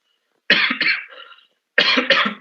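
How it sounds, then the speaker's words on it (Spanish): Two short bursts of coughing, each a quick pair of harsh coughs, close and fairly loud, separated by a second of silence. "que me está dando tos"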